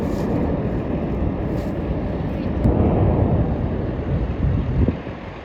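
Navy jet aircraft at Topeka Regional Airport, a steady loud roar with wind buffeting the microphone, swelling slightly near the end.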